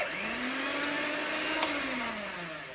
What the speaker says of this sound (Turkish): mikserde aşağı yukarı 5 dakika krem kıvamına gelene kadar çırpacağız